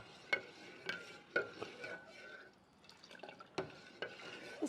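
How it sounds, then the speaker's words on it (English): Phal oodha milk dessert with almond flakes thickening in a pan over a low flame, stirred with soft, irregular spoon scrapes and taps against the pan, quiet and close with brief pauses, no voices. "Keep stirring, be careful"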